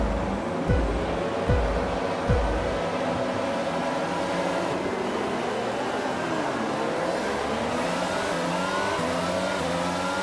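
Race cars in an Austria racing game surge off the line at the start, a steady dense engine drone with a few low thumps early on, no voices.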